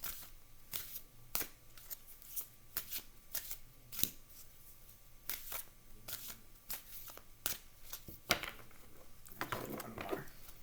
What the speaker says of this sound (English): Let's give these a shuffle.